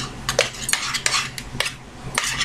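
A mixture for a baked pumpkin and nut tray being stirred in a pan, with a series of sharp spoon clinks and scrapes against metal in irregular bursts, close by.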